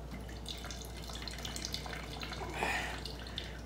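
Water is squeezed out of cooked cauliflower wrapped in a clean tea towel, giving a close, continuous dribbling and trickling of liquid with small drips and splashes, rising slightly partway through.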